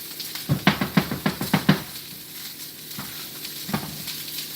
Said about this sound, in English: I want the rice to get nice and toasted before I add any type of liquid to it